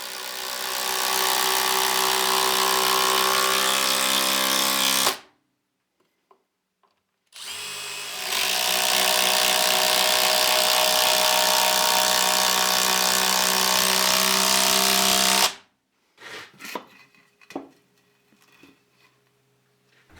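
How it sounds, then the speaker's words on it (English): A power driver sinks long timber screws into a wooden anvil stand in two sustained, loud whirring runs of several seconds each, split by a brief silence. Light clunks and handling knocks follow the second run. "I've got some long timber screws that I want to put through."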